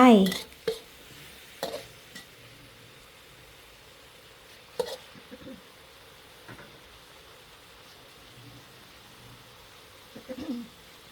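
Fried egg stir-fried in red curry paste with long beans, spatula clanks and scrapes on the pan at the start and in sparse later strokes over a faint low sizzle.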